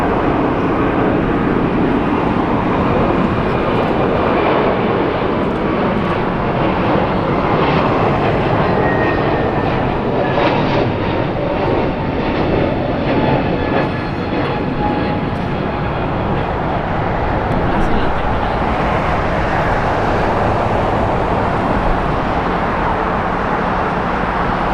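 A Delta Airlines Airbus A320 jet takes off at Los Angeles International Airport, a loud, steady engine roar that holds for the whole stretch without letting up.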